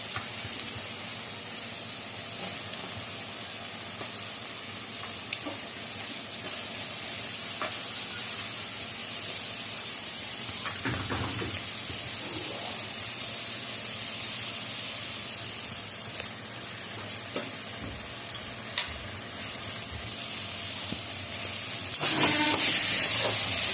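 Green peas go into a sizzling Kashmiri aloo dum potato curry with tomato and a little sugar, giving a steady soft hiss and sizzle with occasional stirring scrapes and a louder burst near the end.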